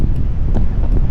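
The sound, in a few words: wind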